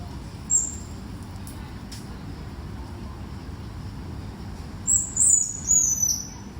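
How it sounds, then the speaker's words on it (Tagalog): Birds call at a campsite in Taiwan: a few faint, brief, high chirps early on, then a short cluster of them near the end, over a steady low background hum. "Ang ganda ng tunog ng ibon,"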